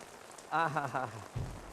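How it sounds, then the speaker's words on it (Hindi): Steady outdoor rain falls with a soft, continuous hiss while a voice briefly sounds over it midway. "वर्षा तो हो रही है"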